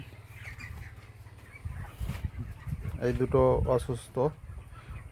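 29-day-old broiler chickens on a poultry farm cluck and chirp softly in the background while someone talks over them, the bird sounds rising briefly near the end.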